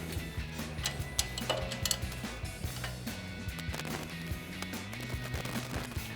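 Bolt for a brake line bracket being threaded back in by hand during a brake rotor and pad install, giving a close, busy run of small metallic ticks and ratcheting clicks over a steady low hum.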